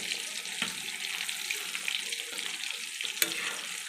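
Chicken cutlets sizzle steadily in plenty of oil in a wok, a continuous broad hiss with a few sharp clinks and scrapes from a utensil, close and moderately loud, with no talking.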